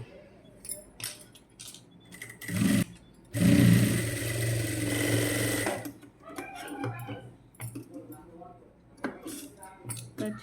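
A sewing machine stitching a neckline runs in short bursts, with one longer stretch of steady mechanical whirring near the middle and quieter clicks around it, while someone speaks at times.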